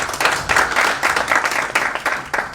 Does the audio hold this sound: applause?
yes